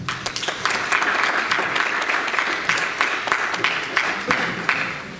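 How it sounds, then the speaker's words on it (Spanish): Sustained applause from a seminar audience, steady and fairly loud, fading slightly toward the end. "que los recibimos con un fuerte aplauso"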